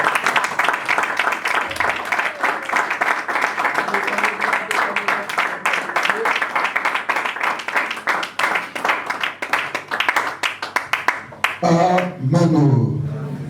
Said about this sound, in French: Maintenant, on acclame la parole du Seigneur.